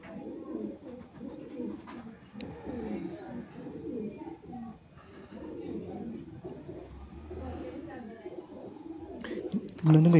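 Breeder pigeons with red pearl eyes coo softly and repeatedly nearby, a low burbling that continues under someone talking throughout.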